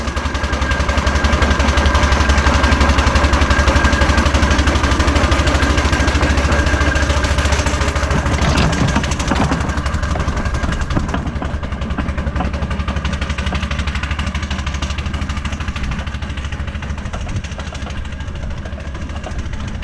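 Garrett 4CD traction engine climbing a hill at speed, a loud steady mechanical rumble and chuffing that carries on throughout before easing slightly toward the end.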